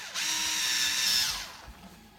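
A cordless drill boring a hole for a window blind bracket, a single steady whine of about a second and a half that ramps up and then winds down, close and fairly loud.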